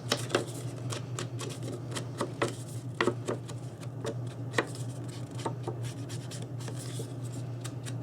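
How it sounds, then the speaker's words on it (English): Dry scratchy rubbing and tapping as a black paper stripe, cut 8 by 3 3/4 inches, is inked by hand for a camera album box, steady close strokes with small taps over a low constant hum. "So I'm going to ink that up."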